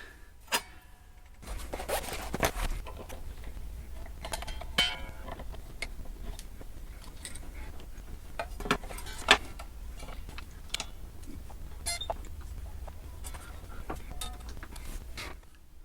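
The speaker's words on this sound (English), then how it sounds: "I'm going to do a truss rod adjustment on this thing" Small metal luthier tools clicking and ticking against a Donner DLP-124S Les Paul style guitar during a truss rod adjustment, scattered close taps and scrapes over a steady low hum, no talking.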